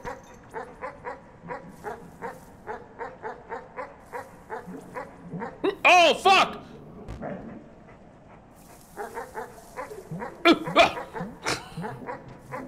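A dog in a video game barks and yips in a rapid, steady run, then whimpers and yelps in louder bursts, with a pause before the yelping picks up again; a man swears once over it.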